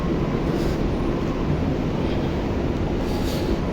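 A Barcelona metro train rumbles loudly and continuously in a station or tunnel, a dense steady roar filling the whole stretch without break.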